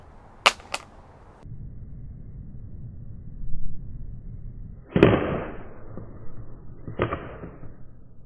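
An iPhone 12 Pro dropped face down from hip height hits a hard surface with a sharp clack and a quick bounce, followed later by further sharp knocks over low room hiss, no speech.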